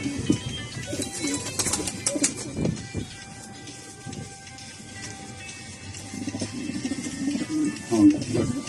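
Pigeons coo softly in the background, low throaty calls recurring through the clip beneath people talking nearby.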